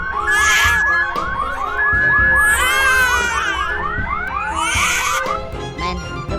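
A loud electronic fire alarm blares with rapid repeating chirps and steady beeping tones, layered and piercing, continuing throughout.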